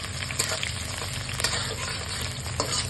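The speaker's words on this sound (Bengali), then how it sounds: "পেঁয়াজটাকে ভালো করে লাল করে ভেজে নেব।" Chopped onions fry in hot oil for a Bengali boal fish curry, a steady close sizzle with occasional crackles and stirring scrapes, with no talking.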